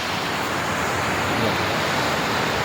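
Ocean waves wash at the sea in Hawaii, a loud, broad and unbroken roar of surf with no distinct breaks.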